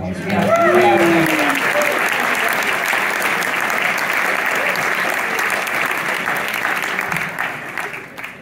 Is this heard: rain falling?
no